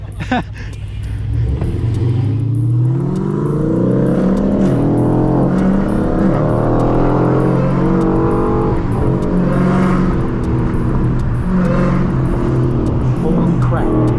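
A stock Dodge Hellcat's engine revs loud and close, rising and falling through repeated throttle sweeps at a Los Angeles street takeover, with crowd voices over it.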